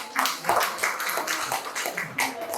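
Audience applause at a talk on using hikayat in a literacy movement: a steady wash of clapping swells in uneven bursts, moderately loud, with no speech over it.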